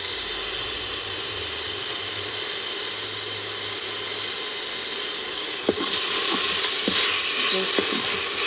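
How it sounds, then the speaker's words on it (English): Green chilies and ginger garlic paste frying in an Instant Pot, a continuous steady sizzle with a few sharp stirring clinks and scrapes near the end. "Just fry it for a few minutes."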